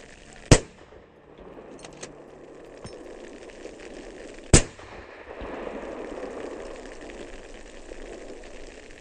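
A hunting rifle fires two sharp, loud shots about four seconds apart at a wild boar running through a snowy driven hunt, with quiet outdoor ambience between them.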